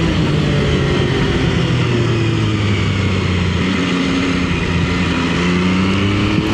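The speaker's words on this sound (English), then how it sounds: "So do some hard braking here. It's a 15 mile, coming down the gears." Italian touring motorcycle braking hard and changing down through the gears, a loud close engine drone whose pitch steps down in falling sweeps, continuous wind rush underneath.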